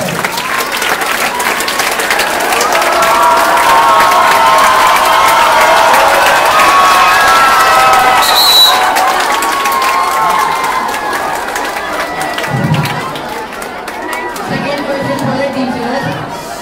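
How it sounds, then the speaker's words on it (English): Applause and cheering from a crowd at a school sports day, sustained clapping with chatter and children's shouts, swelling in the middle and tapering off near the end. "A huge round of applause for the participants."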